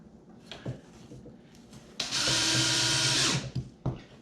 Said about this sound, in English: Go ahead and put my stainless steel screw in there.